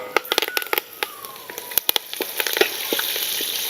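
Mustard seeds, cumin, urad and chana dal, dried red chillies, curry leaves and garlic fry in hot oil for a mango chutney tempering, with a steady sizzle and sharp scattered pops and crackles close by.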